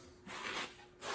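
Old metal being stripped from a 1998 Audi strut mount gives faint, short scraping rubs, two quiet strokes of abrasive grinding with no talk.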